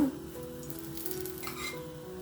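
Rice roti sizzling on a hot pan after ghee is added, a steady soft frying hiss with faint crackles, close and continuous without speech.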